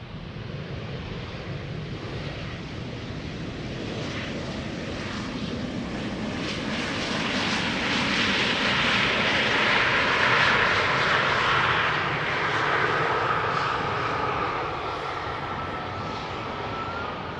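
An Embraer 175 regional jet arrives at Amsterdam Schiphol Airport with a loud, rushing engine roar that swells to a peak mid-pass and then eases, with wind buffeting the microphone throughout.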